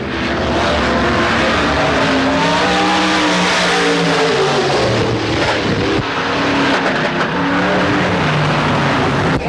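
A race car engine roars loud and steady during qualifying at a dirt track speedway in 1997, its pitch rising and falling as it laps the oval, filling the whole stretch without a break.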